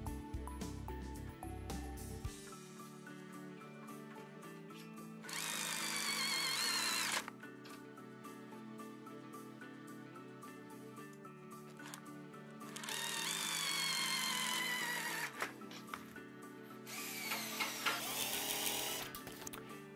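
A power drill drives screws into the side frame of a sliding shower enclosure, giving two sustained whirring bursts of about two seconds each with a shorter third burst, separated by quieter handling sounds.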